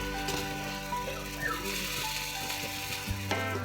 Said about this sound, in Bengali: এদিকে সেই লাউটা এখনো ভাজা হচ্ছে।